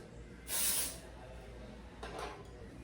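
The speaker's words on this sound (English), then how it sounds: "I'm just gonna spray a little bit of that at my roots" Two short dry shampoo spray bursts at hair roots close by, the first longer and louder, the second softer, with quiet room tone between.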